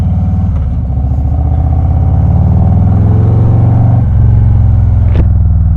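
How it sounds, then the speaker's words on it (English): A 2020 Harley-Davidson CVO Street Glide with a 117 Milwaukee-Eight engine rumbling loud and close, a deep throbbing exhaust note that swells as the revs climb and dips briefly before pulling again. "What an animal, what a beautiful sounding bike."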